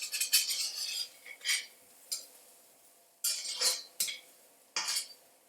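A utensil scrapes around a wok while Cantonese-style fried rice with mushrooms is stir-fried, in several short, bright, irregular scraping strokes separated by brief pauses, close and fairly quiet, with no talking.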